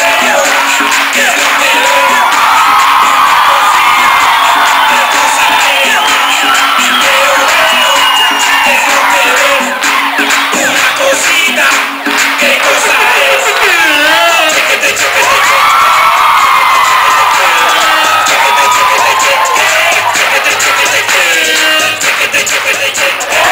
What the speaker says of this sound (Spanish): Gritos, aplausos y desmadre, por favor.